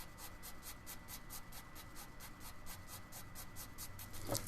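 A 2H graphite pencil shades on paper in steady, rhythmic back-and-forth scratchy strokes, about three per second, soft and close throughout.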